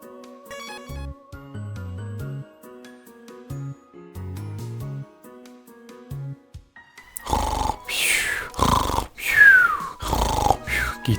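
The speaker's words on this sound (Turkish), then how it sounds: "Bu hayalet yüksek sesle horlayarak uyuyormuş gibi yapıyor." Loud, slow snoring from a ghost pretending to sleep in the Undertale video game comes in long, rhythmic breaths after a stretch of soft, plinking game music.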